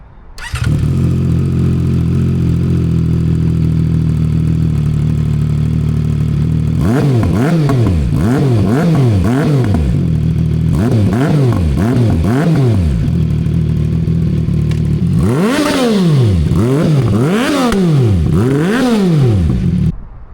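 A CFMoto 675SS motorcycle engine idles loudly and steadily, then is revved in three separate bursts, each a quick sequence of sharp rises and falls in pitch, with the throttle blips spaced by short returns to idle.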